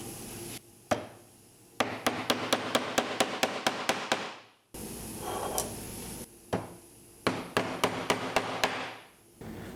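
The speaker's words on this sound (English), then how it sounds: "If you plan on doing any upholstery, you get yourself a CS Osborne magnetic tack hammer" A CS Osborne magnetic tack hammer drives upholstery tacks through jute webbing on a detachable seat frame, two bursts of quick, crisp, evenly paced taps up close, separated by short pauses and handling noise.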